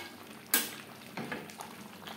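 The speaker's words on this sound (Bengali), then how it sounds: "2-3 মিনিট চিকেনের সাথে আলু নাড়াচাড়া করে নেব।" Chicken and potatoes stirred in a pan for an aloo chicken curry, with a sharp scrape of a spoon followed by a few softer scraping strokes over a faint sizzle, fairly close.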